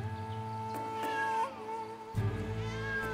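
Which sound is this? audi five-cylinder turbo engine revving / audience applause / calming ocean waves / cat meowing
cat meowing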